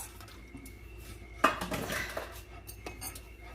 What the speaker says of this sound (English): So now all that's left to do is just stir until it thickens.